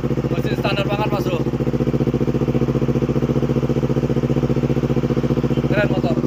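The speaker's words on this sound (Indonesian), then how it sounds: "nikmatin dulu bunyi knalpot Fortunate" A Honda CBR motorcycle with a Fortunate full-system exhaust idles close by, a steady throbbing low burble with a rapid even pulse, while someone talks briefly over it.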